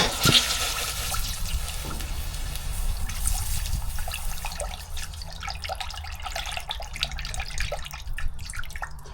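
Hot metal plunges into water and sizzles with a sustained hiss and bubbling, then settles into fainter crackles and drips.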